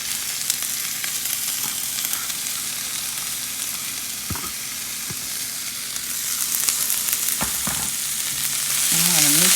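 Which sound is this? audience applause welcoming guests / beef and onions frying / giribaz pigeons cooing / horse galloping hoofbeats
beef and onions frying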